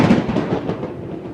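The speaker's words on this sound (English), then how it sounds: "I woke up to the sound of thunder rumbling through the sky." Thunder rumbles through the sky as an audiobook sound effect, a loud, low rolling boom that fades over about a second.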